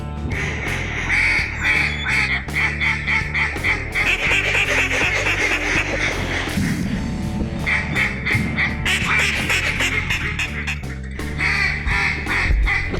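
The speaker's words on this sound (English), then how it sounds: "Shoot those ducks, shoot them." Loud, dense quacking from many ducks calling continuously and overlapping, close and unbroken throughout, during a duck hunt in flooded timber in Arkansas.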